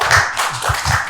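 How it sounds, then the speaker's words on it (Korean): A brief burst of applause from an audience at a forum on ESG and biodiversity, with several quick claps heard close and fairly loud for about a second. "큰 박수 부탁드리겠습니다."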